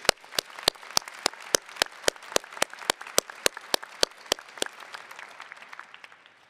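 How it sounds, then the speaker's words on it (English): Audience applause at a Heinz College commencement ceremony, starting as a loud burst of sharp, evenly spaced claps over a steady wash of hands, then thinning and fading toward the end, with no voices. "let's give him a hearty round of applause."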